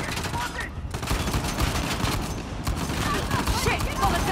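Dense gunfire from the video game Uncharted: The Lost Legacy, a sustained fusillade of rapid overlapping shots and bursts that stays loud for the whole stretch, with a player's voice speaking over it.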